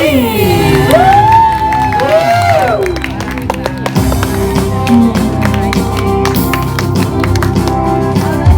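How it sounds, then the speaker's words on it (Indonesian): An audience greets a guest, Paramita Rusady, with a burst of clapping, whoops and cheers, after some sweeping tones at the start, then sustained close, loud applause with sharp individual claps. "Inilah dia, kita sambut dengan tepuk tangan meriah."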